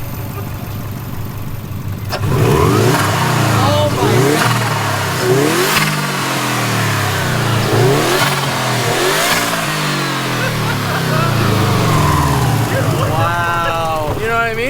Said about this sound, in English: Okay, now rev the car.